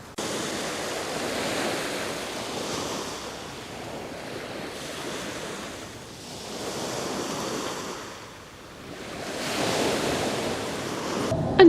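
Sea waves on the beach at Great Yarmouth at low tide: steady broadband surf rising and falling in slow swells, with wind hiss over it and no voices.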